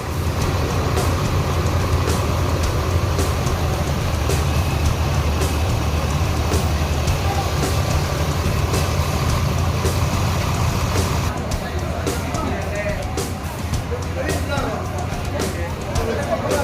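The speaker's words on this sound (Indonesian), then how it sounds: "Ini bus ANS AC Milan," Diesel engine of an ANS intercity bus rumbling steadily and loudly up close, a continuous low drone with faint clicks and shifting noise toward the end.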